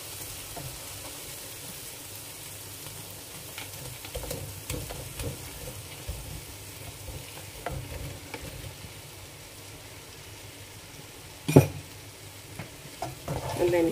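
Chicken pieces sizzle and fry in roasted biryani masala while a spoon stirs and scrapes the pan in steady strokes, close and continuous with a sharper clatter near the end, no talking.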